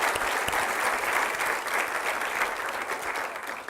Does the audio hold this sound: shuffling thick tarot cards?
no